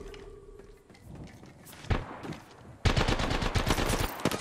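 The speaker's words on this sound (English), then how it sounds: "Opening fire." Gunfire in the video game Apex Legends during a final-circle fight, a few scattered shots and then a loud, rapid automatic burst at close range, with no talk.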